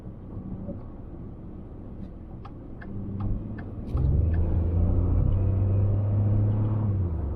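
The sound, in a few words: tractor trailer truck driving around on the road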